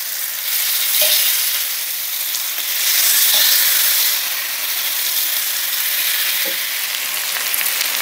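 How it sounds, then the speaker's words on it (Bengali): Chicken tikka kebab skewers, hariyali style, fry in hot oil on a heated grill pan, giving a steady close sizzle with a few soft clicks as the skewers shift, and no voices. "এবার আমরা গ্রিল প্যান গরম করে ভাজতে যাব।"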